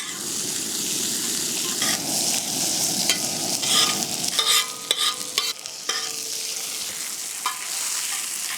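Sliced onions sizzle in hot oil in a pan, with a steady frying hiss under repeated scraping and stirring strokes from a utensil, close and moderately loud.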